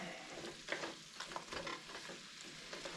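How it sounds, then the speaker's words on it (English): Pork chunks browning in a pot for a low-carb stew as they are stirred, giving a soft steady sizzle with scraping spoon strokes throughout, no voices. "basically just stir this around while it browns"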